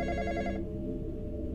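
Cellphone ringing in the Roblox game The Graveyard Experience, a steady trilling bell-like ring that cuts out partway through, leaving a dense low rumble underneath.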